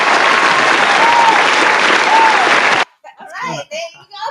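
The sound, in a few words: audience applause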